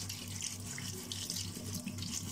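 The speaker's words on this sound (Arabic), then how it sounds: "نغسل كده البطاطس غسله حلوه علشان خاطر نسلقها بقى باذن الله." Running tap water pours steadily as potatoes are washed under a kitchen faucet before boiling, a close, continuous splashing stream with no voices.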